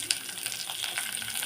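Onion and a whole head of peeled garlic fry in a pan for mutton curry, giving a steady, soft crackling sizzle with a few small pops throughout.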